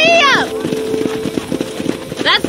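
A horse galloping in Red Dead Redemption makes rapid rhythmic hoofbeats, close and clear, opening and closing with a whinny, while a voice speaks over the start.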